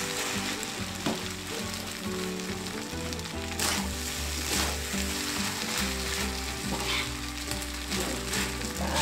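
Fried rice with petai beans is stirred in a pan over a bed of sizzling. Background music with a regular beat plays throughout and partly masks the frying noise.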